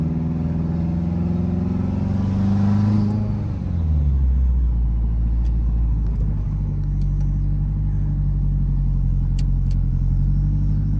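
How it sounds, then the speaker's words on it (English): A Mitsubishi Evo X fitted with a full titanium exhaust drives by at close range, its loud engine note dropping in pitch before settling into a steady deep rumble, with no one talking. "I hope you guys like the sound of this exhaust."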